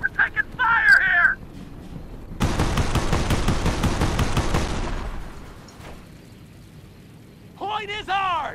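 Dense gunfire rattles for a couple of seconds in the World War II strategy video game Company of Heroes, with soldiers shouting in the game before and after the burst.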